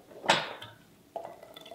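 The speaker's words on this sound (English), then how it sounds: "Put the pot back on the stove" A single loud clatter of a metal pasta pot set down on a stove, followed by softer clinks and scrapes.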